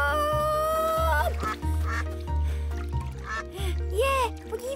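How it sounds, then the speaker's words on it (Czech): Cartoon ducks quacking in a rapid series of loud, nasal calls over background music, with a child-like voice also speaking. "ta kachna řekla Hopitymu kač"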